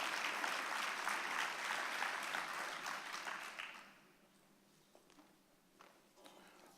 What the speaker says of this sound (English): Let's give her another round of applause, y'all.